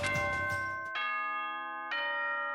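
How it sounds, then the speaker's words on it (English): A deep school bell rings twice in a Danganronpa video game, each strike a bright metallic tone with long sustained harmonics, the second stroke arriving about a second after the first and both ringing out loudly with no talk. "The deep ring of a school bell rang across the halls, echoing through the building."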